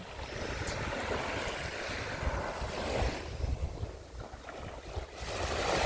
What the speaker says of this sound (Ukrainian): Звідки вони? Хвилі, ви звідки?